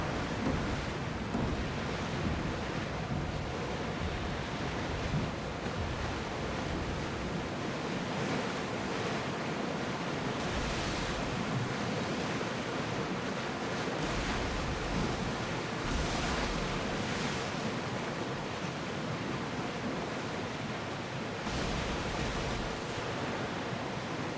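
Sailing ship in Assassin's Creed Odyssey moves through ocean waves, a steady broadband wash of surf and rushing water with wind, continuous and fairly quiet throughout.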